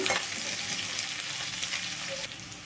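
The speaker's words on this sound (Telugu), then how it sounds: "ఉల్లిపాయ ముక్కలు కలర్ వచ్చిన దాకా వేగాలండి" Chopped onion pieces frying in a pan for a cabbage and yellow gram curry, a steady, dense sizzle close up that holds at even loudness throughout, with no voices.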